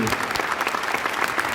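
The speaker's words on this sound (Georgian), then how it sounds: "ძლიერი აპლოდისმენტები." Strong applause from a live audience, dense and loud clapping that stays steady through the short burst.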